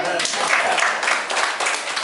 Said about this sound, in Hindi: मैडम के लिए जोरदार तालियां।